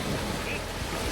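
Wavy open water during a swim: a dense, steady wash of surf and wind buffeting the microphone, close and continuous with no distinct breaks.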